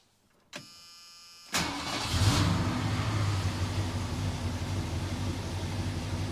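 Truck engine fitted with an Edelbrock carburetor and choke cable, a brief starter crank, a pause, then a sudden catch into a loud rev that settles into a steady rough idle close by.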